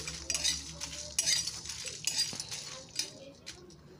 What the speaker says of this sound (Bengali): দিয়ে দিলাম গোলমরিচ, একটু নাড়াচাড়া করে নিচ্ছি।